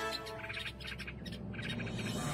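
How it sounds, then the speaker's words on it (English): Small chicks being eaten by a snake give high, repeated distressed cheeps and chirps in quick bursts, fairly close over a low background hum. "The little birds cry because of the intense pain."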